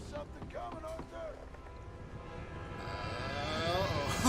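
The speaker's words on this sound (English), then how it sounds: "Train!" In a video game, a train approaches with a low rumble that swells steadily louder toward the end, under brief speech at the start.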